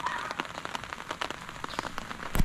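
Steady rain pattering on a farm field of sweet potato plants, a dense wash of drops with scattered sharper taps close by, continuous and even throughout with no voices.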